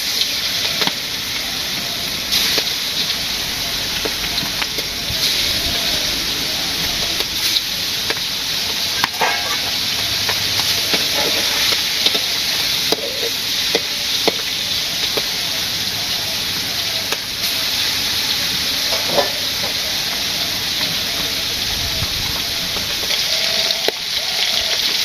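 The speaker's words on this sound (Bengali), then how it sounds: "মাছগুলো ফুটে ফুটে আছে, সমস্যা নেই।" Fish frying in a pan during village home cooking, a steady broadband sizzle and bubbling that runs throughout with small pops and crackles scattered across it.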